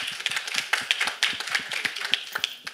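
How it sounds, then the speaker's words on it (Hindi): A small audience at a film song launch event claps in a quick, uneven patter of sharp individual hand claps, fairly close and moderately loud, with no talking over it. "एक बार तालियां इस चीज़ के लिए"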